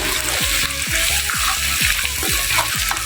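Cumin seeds fry in a hot pan with a dense, continuous crackling sizzle and rhythmic spoon-stirring scrapes repeating about twice a second, close and fairly loud.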